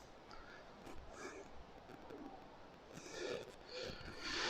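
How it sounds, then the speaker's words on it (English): A dove perched on a white cross in a graveyard, giving soft, faint cooing calls against quiet outdoor ambience, growing a little stronger toward the end. "And we have a bird on it, it's a dove"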